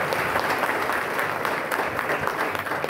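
Steady audience applause fills a political rally speech in Maharashtra, dense continuous clapping at moderate level with no pauses, no voice on top.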